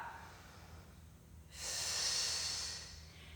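During a prenatal squat workout, a woman breathes out forcefully as she rises, a broad airy rush that swells and holds for about two seconds after a quieter stretch, close to the microphone.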